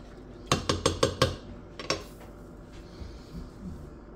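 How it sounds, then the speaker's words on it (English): A spoon knocks and scrapes inside a pot of simmering elderberry syrup, giving a quick run of five sharp metallic clinks and then two more, followed by quieter scraping and bubbling. "So you just wanna kind of scrape the bottom and stir it every 5 minutes or something like that."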